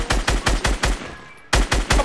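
Rapid automatic gunfire in a video game, a close burst of evenly spaced loud shots, a brief pause, then another quick burst.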